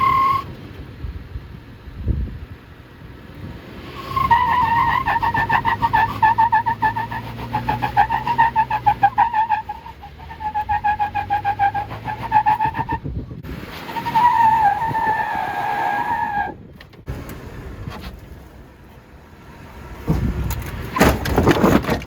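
A stock off-road vehicle claws up a rock obstacle on Hell's Revenge in Moab. The engine revs hard in loud, rising and falling surges with tyre scrabble, then drops away and builds again over roughly twenty seconds.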